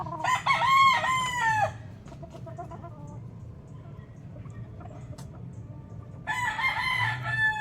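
Boston Roundhead chickens in breeding pens, with a loud rooster crow at the start and another near the end, soft hen clucks and farmyard murmur in between.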